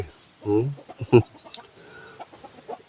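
A couple of loud, close clucks from chickens on temple grounds in Lampang, Thailand stand out at the start, followed by quieter scattered clucking and rustling around them.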